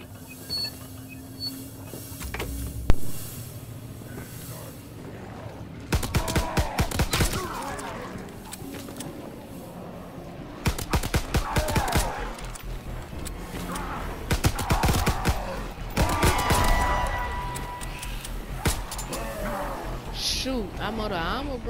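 Gunfire in Call of Duty WWII gameplay, including a Tesla gun: bursts of rapid rattling shots arrive in several clusters over a low game backdrop, with a player talking between and over them.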